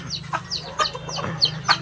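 An old hen gives a quick run of clucks and chirpy calls, several short bursts close by, over a low steady hum.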